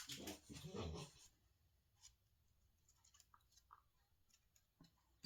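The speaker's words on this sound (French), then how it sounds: "vous entendez mon petit chien Saphir courir dans tous les sens" A small dog scampers around, its quick light pattering and scrabbling steps faint and scattered over a quiet background, with a louder rustling burst at the start.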